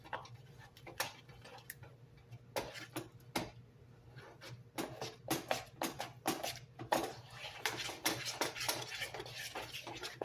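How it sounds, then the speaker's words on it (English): Ingredients mixed in a bowl for a Valentine's Day treat, a utensil clinking and scraping against the bowl in quick irregular taps, close and fairly quiet. "Then you mix that together."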